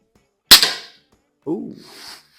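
Two shots from a Norica Variatus 2.0 BP .22 bullpup air rifle at a shooting range: a sharp, loud crack with a short decaying tail, followed a second later by a softer, lower thud and rustle.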